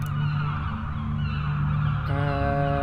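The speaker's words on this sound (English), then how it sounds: "Many birds circle in the sky overhead." Birds call over a beach in the video game The Last Door, honking goose-like cries layered over a steady low ambient drone, with a sharper call rising near the end.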